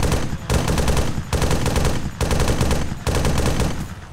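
Sustained automatic gunfire from an APC in the video game ArmA 3, loud and close, coming in long continuous bursts separated by brief gaps.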